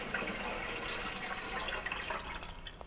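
Steady trickling water in a puddle scene from the adventure game Grim Fandango Remastered, a continuous faint wash with soft irregular drips and no voices.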